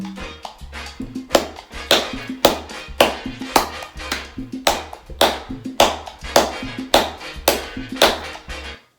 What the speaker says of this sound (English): clap this mambo beat with me